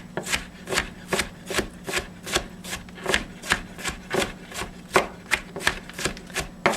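A knife chops and minces ingredients for smoked chicken chili on a cutting board, striking in a steady, rapid rhythm of about three firm thuds per second that carries on without a break and with no talking.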